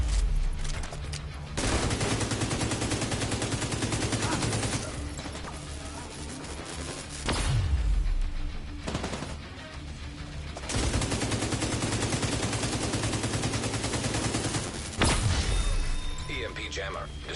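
Bursts of gunfire from shooting NPCs in The Division 2, sustained rapid volleys lasting several seconds each, separated by short pauses with sharp impacts, loud and close throughout.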